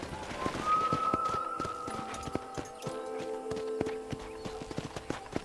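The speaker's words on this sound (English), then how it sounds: "I picked out a fine horse for you." Horse hooves clip-clopping at a steady trot in the video game Red Dead Redemption, rhythmic thuds running throughout under a faint sustained musical tone, with no voices over them.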